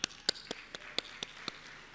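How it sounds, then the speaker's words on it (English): Scattered claps from an audience at a talk: about eight separate, sharp hand claps at uneven intervals over a quiet background, with no full round of applause. "Applause if it's Tanzania."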